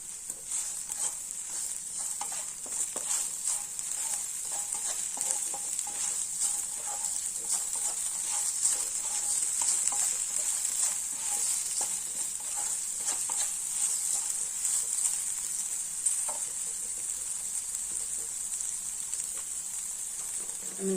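Okra frying in a pan gives a steady, close hiss and sizzle with faint stirring clicks, continuous and even throughout.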